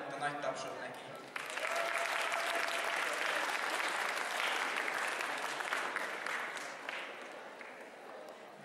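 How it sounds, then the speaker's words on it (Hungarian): Sustained audience applause for the winner of a DDR dance game competition at a spring anime convention, starting lighter then swelling into a loud, steady wash of clapping that tapers slightly near the end. "Horváth Nitta, nagy tapsot neki."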